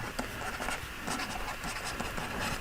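An abbreviation is written on a board with quick, close scratching strokes that run continuously for a couple of seconds, with no speech.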